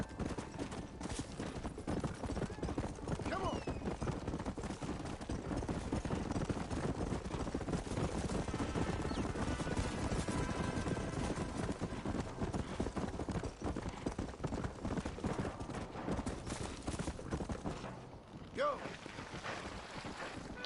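Rapid, continuous clip-clop of a horse galloping in the video game Red Dead Redemption, steady and close over wind noise, with a voice talking at times.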